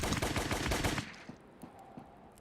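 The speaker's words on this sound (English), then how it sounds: "There's a machine gun." Rapid automatic machine gun fire from the video game Operation Hardcore, a loud dense burst of shots for about a second that stops abruptly, followed by a few scattered fainter impacts.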